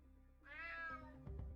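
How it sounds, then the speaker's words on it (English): A cat in the video game UnMetal lets out a single clear, drawn-out meow that rises and falls, followed by a few soft knocking sounds. "Damn cat."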